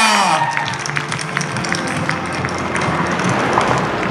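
Crowd applause at an outdoor horse show jumping competition, a steady wash of clapping that runs loud and continuous across the whole stretch with faint crowd noise underneath.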